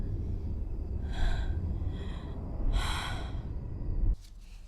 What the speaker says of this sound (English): You're kind of giving away a location with how hard you're breathing.